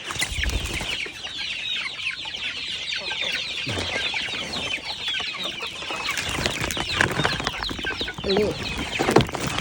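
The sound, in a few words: chickens and chicks clucking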